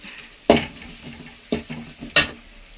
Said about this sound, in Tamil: வெங்காயம் வதங்கிட்டுருக்கேன்